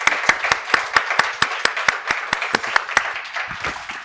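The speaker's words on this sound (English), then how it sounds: "please help me to give a warm round of applause for Secretary Biegun" Sparse clapping from a small audience honoring former Deputy Secretary of State Stephen Biegun at a U.S.-North Korea relations talk, with distinct individual hand claps in an uneven rhythm, fairly close, and no talking.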